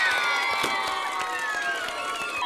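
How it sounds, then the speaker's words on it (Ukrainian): Audience at a village karaoke contest clapping and cheering for the two finalists, a dense continuous roar of applause with shouts and whistles, loud and close, with music ringing underneath. "Ще раз аплодуємо нашим фіналістам"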